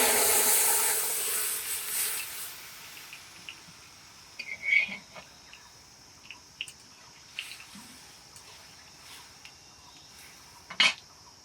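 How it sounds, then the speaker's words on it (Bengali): Sour mango liquid hits a hot pan with oil and mustard seeds, giving a loud hissing sizzle for a couple of seconds that settles into a faint simmer with a few soft clinks. "এবার টকটা ঢেলে দেবো।"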